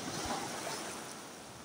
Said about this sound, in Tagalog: Lumakas ang alon. So, nabasa tayo.